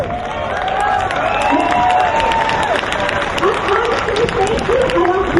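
A rally audience claps loudly and steadily, a dense wash of applause with voices and some cheering mixed through it the whole time.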